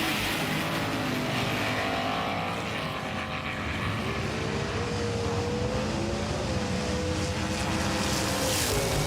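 Racing cars roar continuously on Mount Western Raceway, a dense, loud engine drone with rising and falling tones as the cars pass and swap lanes, with no talking.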